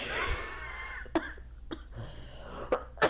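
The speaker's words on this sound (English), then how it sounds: "I'm sorry, I'm coughing." Several short, sharp coughs spaced apart, close by, with a faint background hum between them.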